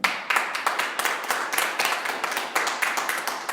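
Clapping rings out in church during a Spanish-language sermon on the Jewish feasts. It is a fairly close, rhythmic clap from a modest group, with distinct strokes repeating steadily throughout.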